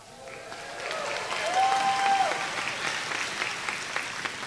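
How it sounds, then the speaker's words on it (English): Audience applause at a spring law school commencement ceremony, a steady moderate wash of clapping that swells slightly midway and holds, with a faint tone sliding through briefly. "I'm going to ask you to hold your applause until I get through the entire platform party"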